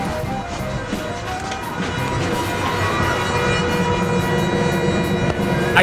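A rumbling Empire Builder passenger train car in motion with a persistent high-pitched whine ringing over the rolling clatter, steady and loud throughout.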